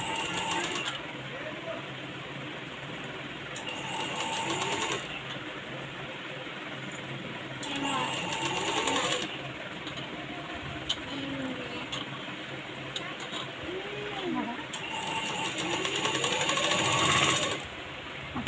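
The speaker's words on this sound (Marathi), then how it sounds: "आपण याच्यावरती डबल शिलाई मारून घ्यायची" A sewing machine runs in repeated bursts, double-stitching mega sleeves onto a ready-made frock, with steady whirring stretches broken by short pauses and someone talking over it throughout.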